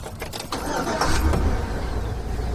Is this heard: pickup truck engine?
yes